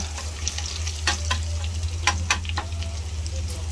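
Garlic fries in hot oil with a light continuous sizzle, crackles and a few sharp spatter pops, heard close with a low background hum.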